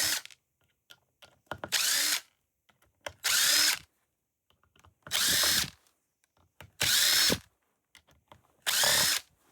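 A power driver backs T8 screws out of a hard drive in five loud whirring bursts, evenly spaced with brief pauses and faint handling clicks between them.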